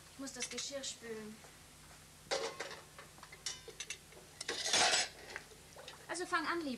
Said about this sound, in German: Ich muss das Geschirr spülen.